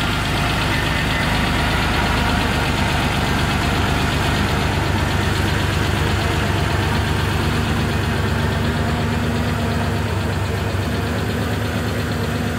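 Air-cooled Porsche 911 SC with a 3-liter flat-six, 204 hp European version, idling steadily: a continuous, even mechanical rumble with a faint ticking, close and unbroken, with no talking.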